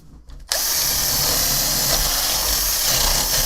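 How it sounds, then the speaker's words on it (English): A power drill starts abruptly and runs steadily at high speed, boring through a bar with a loud, sustained whine close by. "Let's drill through here."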